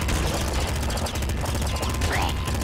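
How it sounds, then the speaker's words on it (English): Assault rifle fire in the video game Nuclear Throne, a quick rhythmic string of shots rattling steadily and loud amid chaotic game effects, with no talking over it. "The assault rifle's good for its spam ability."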